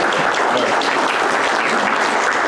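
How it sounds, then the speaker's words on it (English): Sustained audience applause at a State of the City address, a dense, steady wash of many hands clapping close and loud throughout, with no talk over it. "I need to get a little applause thing going here"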